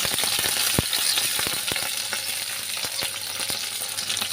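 Green chillies fry in hot oil with onion and crushed garlic in a wok, a loud, steady close sizzle with frequent quick crackles and pops.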